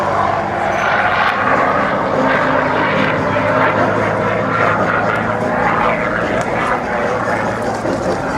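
A propeller aircraft flying past at the Tankfest display: a loud, steady droning engine roar with a buzzing propeller tone, sustained throughout under a faint announcer's voice over the public address.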